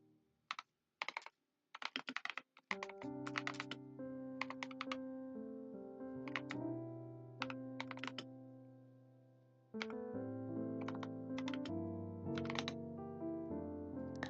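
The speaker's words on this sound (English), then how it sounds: "That's definitely a gaming keyboard." Fingers type on a gaming keyboard in irregular clusters of sharp clicks, some quick runs and some single taps, close up over a soft sustained musical tone.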